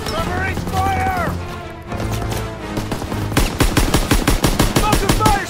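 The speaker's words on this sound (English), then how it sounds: "MG fire interrupted!" Rapid machine gun fire from a pillbox in the World War II shooter Call of Duty WWII rattles in a dense, steady burst, with voiced shouts and battle chatter heard earlier in the scene.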